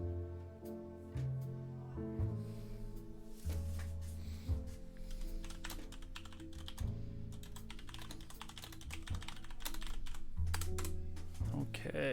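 Computer keyboard typing runs steadily through the whole stretch, a dense patter of keystrokes mixed with low thumps and clatter at a moderate, close level, with some speech-like sounds mixed in.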